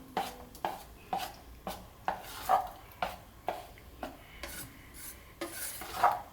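Rava idli batter is mixed by hand in a bowl, giving a close, rhythmic series of wet scraping strokes about every half second, fairly quiet and with no voices.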